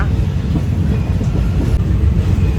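A train rumbles steadily along the tracks near Ban Phachi Junction, Thailand, loud and close, with a continuous low roar and faint rhythmic clatter from the wheels.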